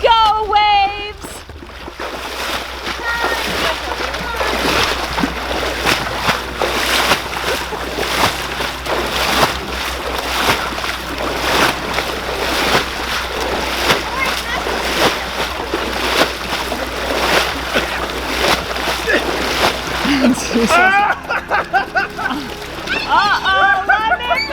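Water sloshes and splashes steadily in a backyard pool as children play a wave-making game, loud and continuous for most of the span, with excited voices and shouting mixed in throughout.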